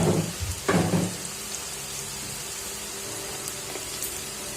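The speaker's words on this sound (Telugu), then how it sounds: "పసుపు వేసినాం కదా, పచ్చివాసన పోయేంత వరకు వేయించుకోవాలా." Dry fish masala with turmeric frying in a pan, a steady close hiss and sizzle throughout, with a couple of louder stirring scrapes near the start.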